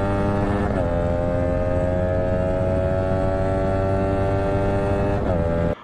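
A Yamaha R15 motorcycle engine in fourth gear holds high revs against the rev limiter, a loud sustained buzzing whine with brief stutters where the limiter cuts in, heard up close from start to end.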